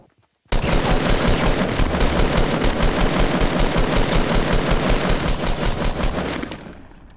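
Sustained rapid automatic gunfire from a shooter video game, a loud continuous burst of dense shots starting abruptly after a brief quiet moment and running steadily to the end, with no talk over it.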